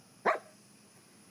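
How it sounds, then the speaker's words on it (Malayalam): A puppy in the Minecraft video game gives a single short, bright yip, followed near the end by the start of a second, with quiet background between them. "എൻ്റെ പട്ടിക്കുട്ട"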